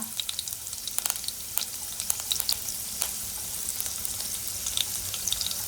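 Garlic and curry leaves sizzle in hot oil for a Konkani ridge gourd aamti, a steady close crackle broken by sharp spattering pops throughout, with no voices.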